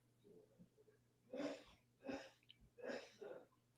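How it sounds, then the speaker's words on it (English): A man sneezes several times in quick succession, each burst sharp and airy, picked up faintly from another room through a microphone, with breathy gasps between them. "I can hear your dad sneezing through your microphone"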